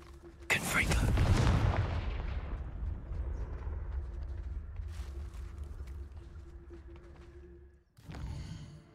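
Confringo blasting spell from Hogwarts Legacy: a single loud explosive burst that rumbles and decays over several seconds, followed by a quieter later whoosh, with a gamer's voice present.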